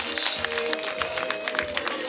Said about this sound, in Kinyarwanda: niba ntacyo bibatwaye mwamwakiranye amashyi menshi